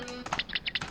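A passcode is typed on a computer keyboard as a quick run of crisp, close key taps, about eight clicks in under a second, with no talking over them.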